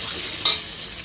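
Onions, garlic and curry leaves sizzle steadily as they are tempered in hot oil in a pan for a fish curry, with a brief louder stir or crackle midway and no voices.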